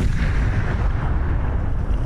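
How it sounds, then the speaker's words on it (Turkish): Seized PKK explosives are destroyed in a controlled detonation in rural Başkale, Van. A loud, continuous low rumble and roar of the blast fills the whole clip, with no speech. "Bölücü örgüt PKK'ya ait patlayıcılar imha edildi."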